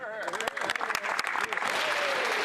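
Applause from members standing and cheering in the Canadian House of Commons during Question Period, a dense burst of clapping from many hands that swells and holds steady, with voices mixed in.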